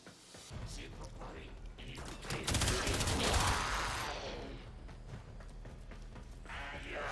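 Gunfire from a primary weapon in the video game Warframe crackles in loud bursts, building to a dense barrage midway and then easing into steadier shots with game effects.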